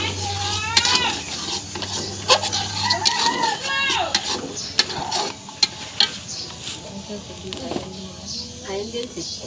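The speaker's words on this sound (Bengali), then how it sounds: "এখানে হচ্ছে আমি পেঁয়াজ বাটা দিয়ে দিলাম।" Onion paste stirred in a hot pan, with soft sizzling, scraping strokes and clinks of the spoon against the pan, under someone talking and other voices in the background.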